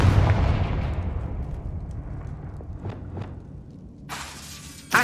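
A sharp, shattering blast from the Confringo spell in the video game Hogwarts Legacy, opening loud and fading into a rumbling tail with a couple of faint thuds and a brief crackling burst near the end.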